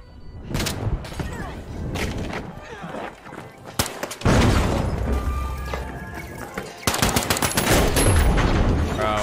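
Flashbang and gunfire in a first-person shooter video game: sharp blasts and rapid crackling shots come in repeated bursts across the clip, loud and close, with a player talking over the action.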